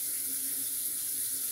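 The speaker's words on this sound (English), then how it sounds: "Leave that water running behind me. That's what y'all hear." Steady hiss of water running from a kitchen tap, a constant close splashing stream with no break across the short moment.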